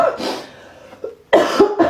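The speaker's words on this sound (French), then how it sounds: "j'arrête pas de tousser" A person coughs a few times at close range, with short harsh bursts separated by a brief pause.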